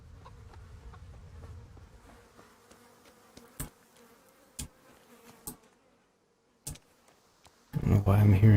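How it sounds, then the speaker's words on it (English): Flies buzzing in the medieval game Kingdom Come: Deliverance, a faint steady insect drone under ambient noise, broken by a few sharp clicks and ending in a sudden loud burst. "I don't know why I'm hearing swarms of flies."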